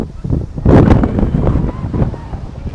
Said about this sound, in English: I hope the wind doesn't blow the camera down.